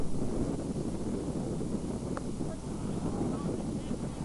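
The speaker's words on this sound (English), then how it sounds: "You can see just how windy and strong that wind is" Strong wind buffets the microphone at an outdoor high school baseball field, a loud steady rumbling roar with no breaks throughout.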